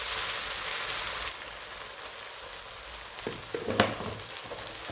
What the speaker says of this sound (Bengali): মশলাটাও ভাজা হবে আর এই মাছটা একটু মোটা করে ভাজা হয়ে যাবে